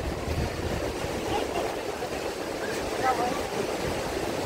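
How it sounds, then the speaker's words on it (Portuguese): Sea surf washes steadily onto a crowded beach as a continuous, fairly loud rush of breaking water, with faint voices in the background. "Olha a água vindo."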